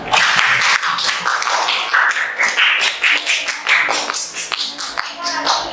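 Students in a classroom give a classmate a round of applause, dense, steady clapping from many hands lasting several seconds, with some voices mixed in.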